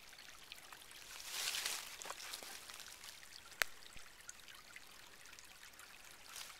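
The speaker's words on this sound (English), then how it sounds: "There's little streams." A small mountain stream on the Shelving Rock Mountain trail trickles and babbles quietly in a wooded setting, a faint continuous flow with occasional soft drips and one sharp tap, with no talking.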